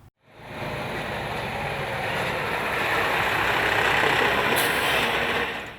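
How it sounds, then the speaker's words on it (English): A wastewater recycling combination truck used for sewer cleaning runs steadily close by, a broad, continuous engine and machinery roar that builds slightly, with a brief hiss near the end. "This truck behind me is a wastewater recycling combination truck, and it is used for cleaning the sewer system."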